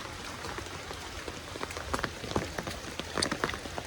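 Steady rain falls outdoors through a long night's downpour, a dense continuous hiss broken by scattered louder drops and patters, close by with no voices.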